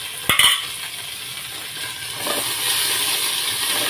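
Shahi jeera frying in a pan for bagara rice opens with a couple of quick metallic clinks from stirring, then a soft sizzle that grows slightly louder and steadier.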